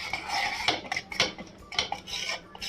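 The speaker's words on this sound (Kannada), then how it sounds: "ಈ ರೀತಿ ಕಸ್ಟರ್ಡ್ ಪೌಡರ್ ಮಿಕ್ಸ್ ಹಾಕಿದ್ದಾದ್ಮೇಲೆ ಚೆನ್ನಾಗಿ ಮಿಕ್ಸ್ ಮಾಡ್ಕೊಳ್ಳಿ." Custard powder being stirred into hot milk in a pot, with repeated scraping and clinking of a spoon against the metal in an irregular rhythm, close and alone.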